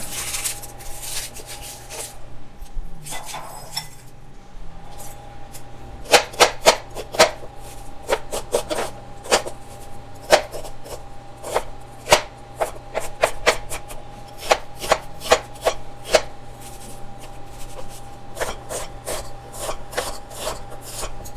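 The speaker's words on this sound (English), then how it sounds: "First, I'll cut my onion." Onion chopped by hand with a knife on a cutting board: a long run of crisp, irregular knife strikes, sparse at first and then fast and steady, close and fairly loud over a faint background hum, with no talking.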